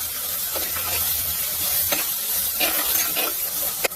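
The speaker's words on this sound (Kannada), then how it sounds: "ಈಗ ಟೊಮೆಟೊ ಒಳ್ಳೆ ರೀತಿಯಲ್ಲಿ ಸಾಫ್ಟ್ ಆಗಬೇಕು, ಅಷ್ಟರ ತನಕ ಇದನ್ನ ಈ ರೀತಿ ಫ್ರೈ ಮಾಡುವ" Chopped tomatoes fry with chicken in a pan, making a continuous loud sizzle broken by a few short scraping stirs.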